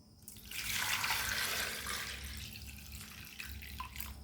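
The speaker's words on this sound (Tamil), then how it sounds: "இப்போ புளி கரைச்சிக்கலாம் இப்போ வடி கட்டிக்கலாம்" Tamarind water for pepper rasam is strained at home, a soft continuous trickle and pour of liquid with faint splashy detail. The flow swells then settles, quiet and close, with no speech.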